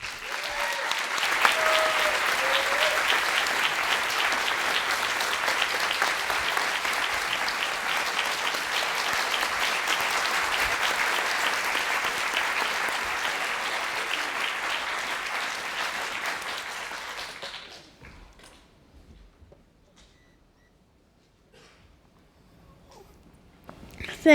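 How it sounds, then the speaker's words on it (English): An audience gives a big round of applause after a speaker is introduced at a film premiere, loud sustained clapping with some crowd murmur for about seventeen seconds before it drops away into near silence. "how about a big round of applause for Brooke Ellison."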